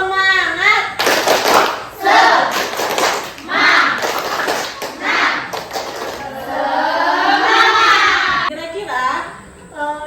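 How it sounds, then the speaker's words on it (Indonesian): Classroom group doing a rhythmic patterned clapping chant, hands clapping in bursts alternating with children's chanted voices, loud and close. "Tepuk semangat."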